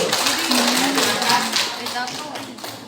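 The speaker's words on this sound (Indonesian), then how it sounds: "Tepuk tangan untuk kelompok 1 dulu." A junior high school class in Takalar claps for the first student group, a loose patter of hands heard under a speaking voice and fading toward the end.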